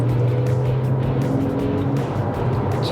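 A Porsche 911 Carrera 997 with a manual gearbox, no options, revving as it drives, heard from the cabin with the engine behind. Its drone is steady and loud, with rising and falling tones and no talking.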